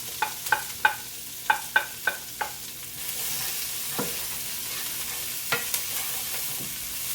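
Bok choy stems and other stir-fry vegetables sizzle steadily in a hot pan while a utensil knocks and scrapes through them in a quick run of stirring strokes, then a few more later, close and alone.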